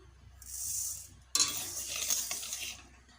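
Moong dal is stirred in a pan while it fries, with a brief scraping stir, then a sharp clatter and a few seconds of dry rustling and sizzling close by.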